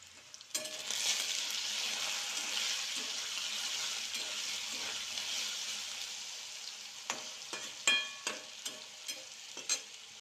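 Potatoes fry in hot oil with salt and turmeric, a steady close sizzle broken by sharp clicks and scrapes of a spatula stirring in the pan toward the end.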